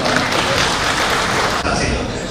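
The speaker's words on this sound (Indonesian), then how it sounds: "Tepuk tangan untuk Sumatera Barat." Audience at a provincial assembly plenary meeting applauding, a dense, loud, continuous wash of clapping that fills the hall throughout.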